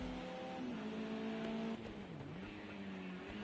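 A Renault touring car in a racing video game at Imola, its engine note holding a steady high drone, then dropping and wavering as it shifts and slows, loud and continuous with no talk.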